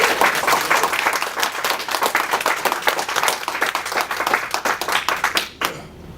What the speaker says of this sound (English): give them a hand, a round of applause